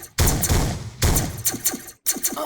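Explosion effects from a homemade space shooter video game go off in three loud booming bursts, each trailing into rattling, crackling decay, with short silent gaps between them.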